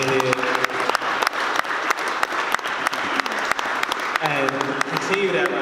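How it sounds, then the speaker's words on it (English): Audience applause at an evening panel discussion on gentrification in Richmond, a steady wash of many hands clapping throughout, with a speaker's voice heard over it at the start and end. "Give yourselves a round of applause for being here."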